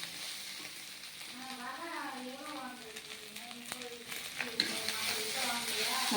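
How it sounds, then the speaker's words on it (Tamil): Ginger garlic paste is sautéed in a hot pan, a steady soft sizzle and hiss running throughout, while a person speaks over it and a few light stirring scrapes come through near the end. "இஞ்சி பூண்டு பேஸ்ட் போட்டு நல்லா வதக்குறீங்க"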